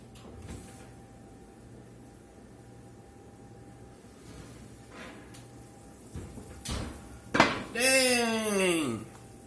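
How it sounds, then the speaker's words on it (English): A pan of Tex-Mex jambalaya being pulled from the oven: soft metal clatter and a knock, then a sliding rack and a loud creaking oven door, close, with a voice briefly heard. "Let's pull this out the oven and look at this."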